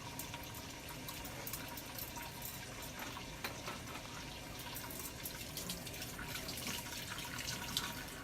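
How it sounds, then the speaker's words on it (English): Tap water runs steadily at a sink while bloodied surgical instruments are rinsed, a faint, continuous splashing wash with no voices. "So you rinse them off, make sure all the blood is out"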